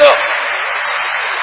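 Brief burst of congregation applause inside a church service, a steady muffled hiss of many hands clapping together for a short moment.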